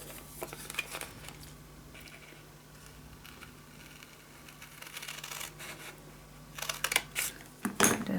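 Scissors cut out a paper craft piece for a pop-up scrapbook album. Soft snips and paper rustling sit over a quiet hum, getting busier toward the end.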